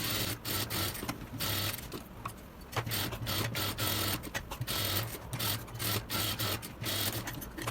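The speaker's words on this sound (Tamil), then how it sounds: "இதே போல் இன்னொரு பீஸையும் தைச்சிக்கணும்." A sewing machine stitches a blouse fabric piece in close bursts of rapid mechanical rattling, separated by short pauses where it stops and restarts.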